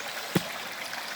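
A rocky creek flows with a steady broadband rush of water, one brief gurgling splash standing out near the start of the short stretch.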